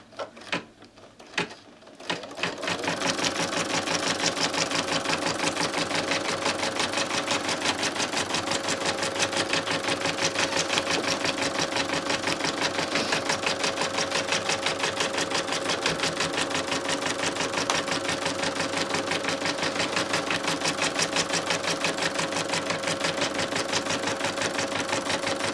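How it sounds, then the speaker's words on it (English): An embroidery machine stitches grid work in metallic thread at slowed speed with loosened tension, a steady rapid mechanical needle rhythm running continuously after a brief start, fairly loud and close, with no talk. "It's going to stitch the grid work."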